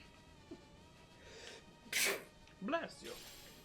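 A sudden sneeze bursts out amid background noise, followed shortly by a person speaking.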